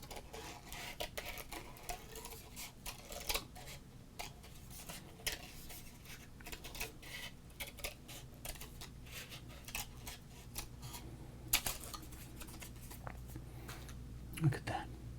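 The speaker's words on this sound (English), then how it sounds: "Do you all like the sounds of scissors?" Quiet, close crisp snips and scrapes of scissors cutting through 1990s baseball cards, irregular and soft, with faint murmuring in the background.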